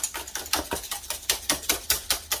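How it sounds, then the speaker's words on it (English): Eggs for Greek avgolemono soup whisked briskly in a bowl until frothy, a fast steady run of about a dozen sharp clinking strokes, close and moderately loud with no talking. "Just keep whisking them nicely. They have to be beaten up really well."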